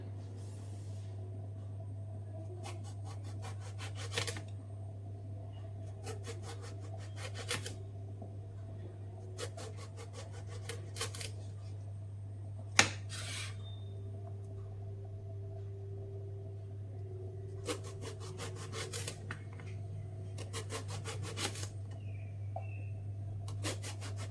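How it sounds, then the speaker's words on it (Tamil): Eggplant sliced into rounds with a knife on a cutting board: faint, quick repeated cutting strokes in short clusters over a steady low background hum, with no talking. "நான் கத்திரிக்காய் எடுத்துருக்கேன். இதை இப்போ ரவுண்டாக கட் பண்ணிக்குவோம்"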